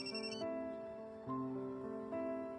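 An incoming call on a mobile phone rings out as a steady, melodic electronic ringtone, its tones shifting in pitch over a couple of seconds, fairly close and with no one talking over it.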